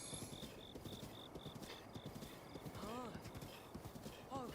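Hooves clip-clop rapidly in a galloping rhythm in Breath of the Wild, with a horse's whinny rising over them partway through and again at the end, a faint beeping behind.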